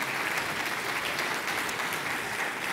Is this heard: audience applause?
yes